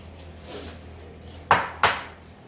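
Metal baking pans for roasting halved Brussels sprouts are handled in a home kitchen, giving two sharp, close metallic clanks in quick succession after a quiet stretch.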